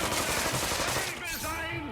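A gunshot fired at the floor in South Park: The Stick of Truth, heard as a short, fairly quiet impact followed by ringing, warbling game effects.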